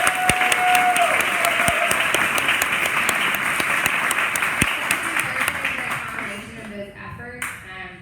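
Audience applause at a Startup Weekend final presentations event in Columbia, Missouri: dense, sustained clapping from a crowd for about eight seconds, loud and even, thinning out near the end with a few scattered claps and voices.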